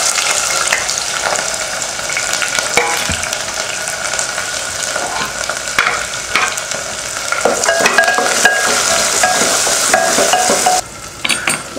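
Onions sautéing in a pan with cloves, curry leaves and chillies, a loud steady sizzle with stirring scrapes throughout, dipping briefly near the end.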